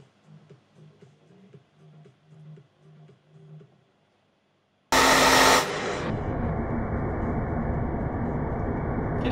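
Stand assembly at Clermont-Ferrand, a loud steady whooshing roar like a slow hair dryer that starts abruptly after a few seconds of quiet low rhythmic sounds, then continues as a constant broadband hiss with a brief harsher burst at onset.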